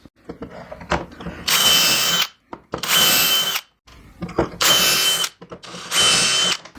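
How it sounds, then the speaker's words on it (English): A power drill whirs in four separate bursts, each about a second long, boring pocket holes into wood with short pauses between them. "drill 2 holes. I'm going to use the 2 outside set of holes."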